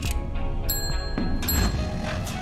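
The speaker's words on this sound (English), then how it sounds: "Someone ring the bell at the front counter." Counter service bell ringing at a laundromat front counter in the horror video game Bloodwash, a couple of bright metallic dings standing out over a steady low game ambience.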